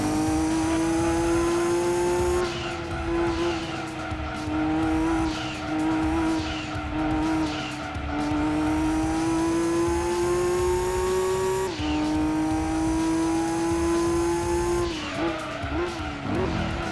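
An Audi R18 hybrid race car in Gran Turismo 2 holds a loud, steady engine whine, with its pitch stepping up and dropping back at each gear change and brief tire skids mixed in.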